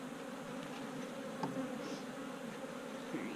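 Honeybees buzz steadily around an open beehive during an inspection, a close, even insect drone with a couple of brief knocks.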